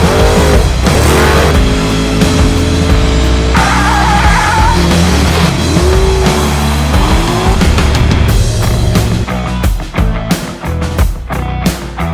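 A turbocharged aluminum 5.3 V8 car driving hard, its loud engine revving and climbing through gears with tire squeal mixed in, continuous and close throughout.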